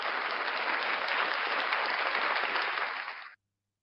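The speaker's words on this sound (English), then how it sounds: "Ladies and gentlemen, round of applause" An audience bursts into applause, a dense, even wash of many hands clapping that holds steady for about three seconds before cutting off abruptly into silence.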